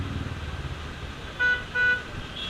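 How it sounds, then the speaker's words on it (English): Road traffic near metro construction: a low rumble of engines, then two short car-horn toots in quick succession cutting clearly above the steady traffic noise. "metro construction is going on, that's why so much of traffic"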